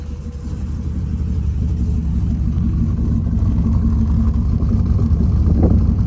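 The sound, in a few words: turbo 6-litre engine running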